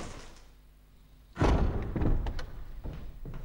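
A door in the Resident Evil remake video game slams shut with a sudden heavy thud after a quiet stretch, and a few softer knocks and clunks follow.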